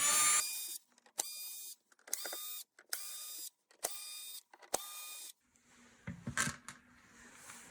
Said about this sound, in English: remove the 6 screws holding the base in place